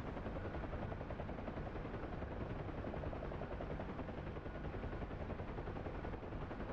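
Huey helicopter in DCS with door gunners returning machine gun fire, a steady dense rotor and engine roar with rapid gunfire blended in throughout, heard from inside the aircraft.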